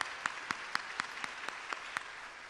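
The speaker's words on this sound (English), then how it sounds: "Let's give them all a round of applause" Light applause for mayoral candidates at a forum: a thin, distant patter of claps with a few sharp, evenly spaced hand claps standing out over a quiet room.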